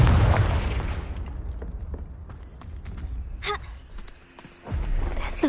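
A Confringo blasting spell from Hogwarts Legacy bursts with a loud booming blast at the start, its rumble decaying under scattered game effects and a later thump, while a voice speaks.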